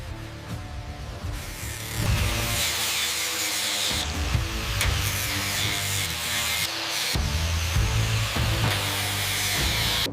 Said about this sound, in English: Every inch of rust must be cut away before we can rebuild.